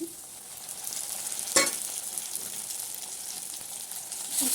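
Masala paste sizzles and spits in hot oil for a village-style fish curry, a steady close frying hiss with one sharp stirring scrape partway through and no voices.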